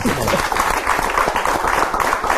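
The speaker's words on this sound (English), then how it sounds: "I think she deserves a round of applause." A studio audience applauds on a Nigerian television talk show, steady clapping lasting the whole stretch at an even level, with some talk mixed in underneath.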